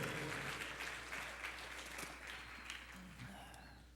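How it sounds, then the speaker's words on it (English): Congregation at a church service applauding the vacation Bible school team, a sustained crowd of clapping hands fading slightly over time, with a steady low hum beneath. "you deserve a big applause"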